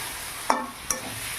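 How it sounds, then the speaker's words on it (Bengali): A spoon stirs fried drumsticks and potatoes in a pan for a vegetarian drumstick dish: two brief close scraping clacks about half a second apart over a faint sizzle. "এবারে ভেজে রাখা সজনে ডাঁটা আর আলু এর মধ্যে দিয়ে দিলাম। একটু নেড়ে চেড়ে"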